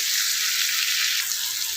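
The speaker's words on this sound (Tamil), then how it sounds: "இதை வந்து நம்ம ஒரு 2 to 3 மினிட்ஸ் வந்து நம்ம நல்லா வதங்குற வரைக்கும் வதக்கிக்கலாம் ஆனியனை" Onions sautéing with turmeric powder in a pan for a green tomato curry, a loud, dense, even sizzle that stays constant throughout, heard up close with no voices.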